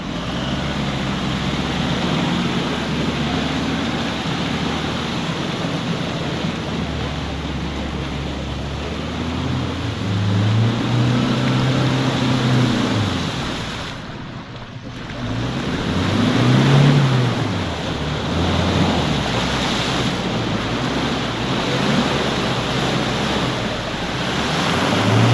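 A Toyota Fortuner 4x4 drives through water, producing a loud, steady rush of churning water and wind noise with the engine swelling and revving up twice, and no speech.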